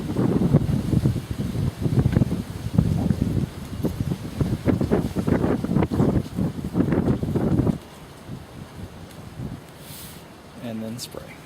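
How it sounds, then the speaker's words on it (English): Strong wind buffets a microphone outdoors while miniatures are being spray primed. It comes as a heavy, continuous rumble for about eight seconds, then drops to quieter ambience, with someone speaking near the end. "Let this next gust of wind go"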